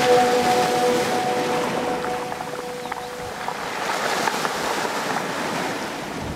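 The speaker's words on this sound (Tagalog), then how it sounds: "tunog ng humahampas na alon sa mga bato" Waves crash and wash steadily against rocks on a beach at Caramoan, a loud continuous roar of surf with some wind, no voices.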